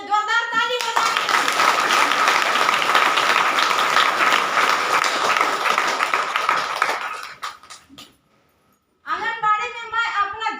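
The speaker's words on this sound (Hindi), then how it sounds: "गुरु करमदास सर के लिए जोरदार ताली बजाइए" Enthusiastic audience clapping for a guru at a community gathering, dense and sustained for about seven seconds before fading to silence, then a voice resumes speaking.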